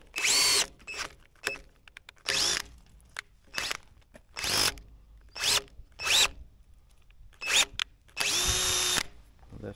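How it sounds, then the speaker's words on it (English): A power drill drives a screw into roof rafter wood in repeated short bursts, whirring up and stopping about a dozen times, with a longer run near the end; close and loud. "we're going to take this and kind of screw in straight first"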